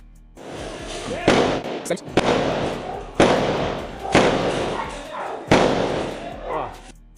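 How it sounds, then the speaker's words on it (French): Gunfire from a crossfire in Brazil: a series of sharp, heavy bangs at uneven intervals, each with a rolling tail, with voices audible among the shots. "au milieu des tirs croisés, ils choisissent le moment pour riposter"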